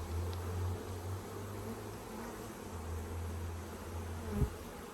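Honeybees buzz around an open hive during an inspection, a steady low droning hum with one brief knock near the end.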